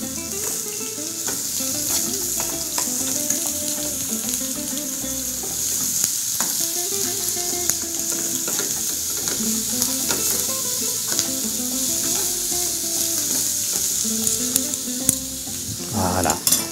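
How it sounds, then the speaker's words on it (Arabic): Zucchini sizzles and fries in a hot pan with lamb and vegetables, stirred now and then with scrapes and clinks of a utensil over a constant loud crackle. "وفي الاخير نضيفوا عليهم الكورجيت ديالنا. ها هي ونخلطوا الخليط كامل."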